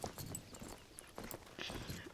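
A horse walks with a steady clip-clop of hooves in the Star Stable Online video game. The hoofbeats are fairly close, repeating over a soft game background.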